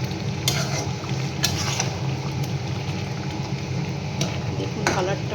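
Chilli chicken with tomato and chilli sauce being stirred in a pan, a low bubbling sizzle under repeated sharp spoon scrapes and clinks against the metal, close up, with no one speaking.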